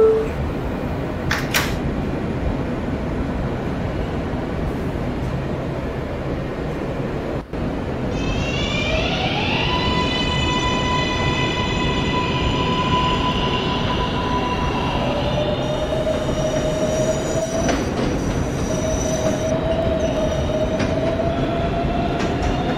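Interior of a New York subway train riding the rails, a loud steady rumble of wheels with rising and falling whining tones from the motors and brief squeals, no talking.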